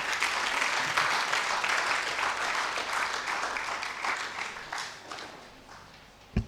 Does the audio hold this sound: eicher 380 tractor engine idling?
no